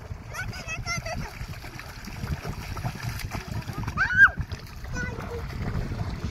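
Children splashing and swimming in water at a dam on a hot day, with steady close splashes and churning water, a brief louder splash near the middle, and children's voices mixed in.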